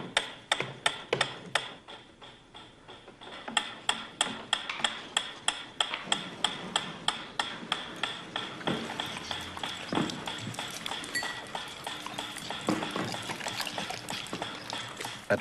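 A ticking metronome beats steadily and evenly, about two clicks per second, close and fairly clear over a faint background hiss, with no one talking.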